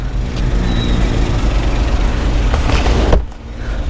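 A Mazda Scrum wagon's K6A 660cc turbo engine idling, a steady close rumble with a broad hiss, briefly dipping near the end.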